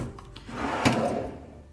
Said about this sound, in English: Moving on to these 4 drawers,